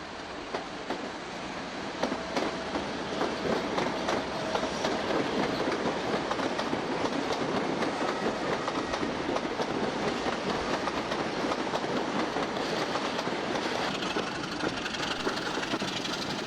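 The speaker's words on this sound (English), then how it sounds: "The push-pull set leaves for Glasgow Queen Street." A push-pull passenger train pulls away from Edinburgh Waverley for Glasgow Queen Street in the 1980s, a steady loud rumble of engine and rolling wagons with clickety-clack wheel beats running throughout, no voices.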